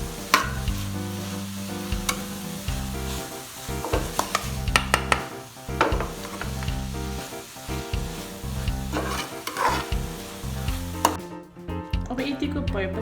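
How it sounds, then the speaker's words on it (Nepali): Apple pie filling stirred in a pan as the sugar caramelizes with cinnamon: a steady sizzle under repeated scraping strokes of a spoon against the pan, close and fairly quiet, with a voice speaking now and then. "अब यसलाई बिस्तारै मोल्नु पर्ने हुन्छ। हाम्रो चिनी पक्रेर क्यारामलाइज हुनुपर्छ।"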